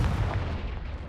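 Spell explosions in the video game Hogwarts Legacy, a single deep booming blast with a rumbling low-heavy decay lasting about a second.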